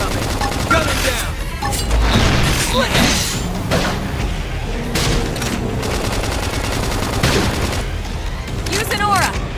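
Heavy, continuous gunfire and blasts in a combat battle in Xenoblade Chronicles X Definitive Edition, loud and dense throughout, mixed with other battle effects and voice sounds.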